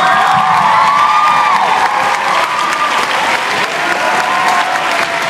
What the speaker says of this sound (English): How about another big round of applause for Miss Histrop?